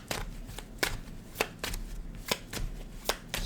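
Tarot cards shuffled by hand in a quick series of crisp riffling bursts, close and fairly loud, with short pauses between them and no talking.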